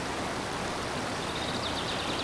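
A small hillside stream near Varkala flows with a soft, even rushing hiss, constant and fairly faint throughout, with no voices.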